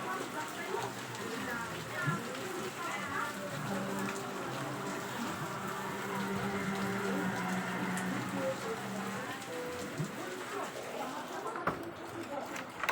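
Steady rain falls and patters on surfaces throughout, a continuous moderate wash of drops with a voice talking over it.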